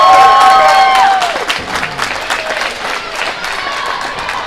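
A home crowd at a Crab Orchard high school basketball game against Gallatin County cheers and applauds loudly, with whistles cutting through at first, then the roar settles into sustained clapping and chatter.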